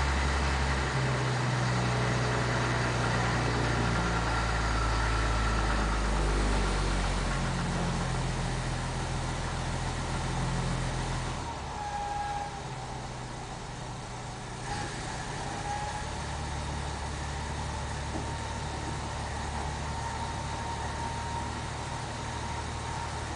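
1947 International Harvester KB-1 panel truck engine dropping from a fast idle back down to a low, steady idle, a continuous close rumble that settles lower partway through.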